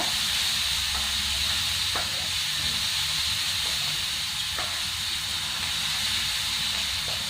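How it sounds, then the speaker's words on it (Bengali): Capsicum lightly sautéing in a pan gives a steady, close sizzling hiss throughout, with a few faint clicks and no talk. "সেই কারণে হালকা করে একটু ভেজে নিচ্ছি আমি"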